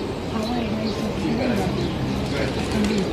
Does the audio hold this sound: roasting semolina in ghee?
no